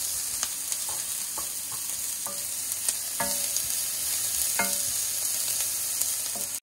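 Mixed vegetables with shredded carrots sautéing in a pan over reduced heat, giving a continuous close sizzle with a string of light clicks and scrapes from stirring. No voices.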